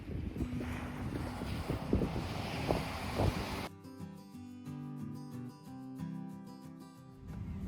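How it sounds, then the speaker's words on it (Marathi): Strong sea wind buffets the microphone in loud, continuous gusts along the coast near Laguna Beach in Orange County, Los Angeles, with rumbling low noise, then a tonal, hum-like layer taking over partway through. "आपल्याला मात्र हे वारं तेवढं झेपत नाही"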